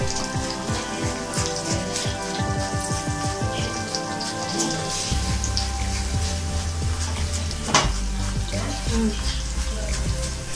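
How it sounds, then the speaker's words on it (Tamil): Leaves fry in hot oil in a pan on the stove, giving a steady, close crackling sizzle like dense pattering rain, with occasional sharper pops. "இலை நல்லா மொறு மொறுன்னு வர்ற அளவுக்கு நல்லா கொதிக்க விடணும்."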